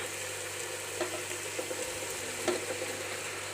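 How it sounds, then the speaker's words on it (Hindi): Soft, steady sizzling of spiral macaroni with chicken and vegetables being stirred in a hot pan, with faint scraping accents over a constant background hiss and no talking. "अब इसमें हम मैक्रोनीज ऐड कर देंगे, पास्ता, स्पाइरल मैक्रोनी,"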